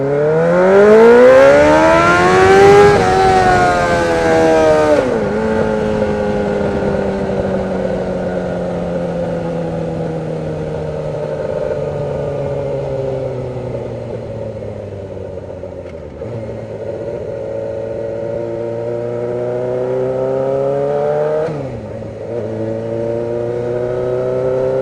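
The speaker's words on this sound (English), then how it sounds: "listen to the bike" A motorcycle engine revs hard and rises in pitch at the start, then drops and settles into a loud, steady drone with a couple of brief pitch dips and recoveries as the throttle shifts.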